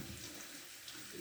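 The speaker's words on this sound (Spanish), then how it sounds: "Primero se lava la fruta" Tap water running steadily into a sink while sour oranges are washed, a soft continuous hiss and splash, faint and brief with no talking.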